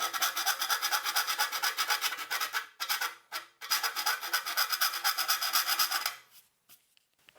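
A hand file rasps back and forth in quick, even strokes to open up a hole in a metal tube amplifier chassis, close and loud, with a brief pause midway and the filing tapering off near the end; no speech.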